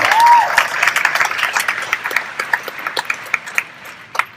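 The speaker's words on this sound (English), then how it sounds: "Let's give Nu Skin a round of applause." Audience applause at a business success forum, a brisk wash of many hands that opens full and tapers into scattered individual claps, with a brief tonal ping at the start.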